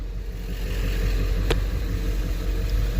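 A diesel vehicle pulls away on a test drive after a fuel-system cleaning, its steady low engine drone and road rumble carrying throughout, with one brief sharp click midway.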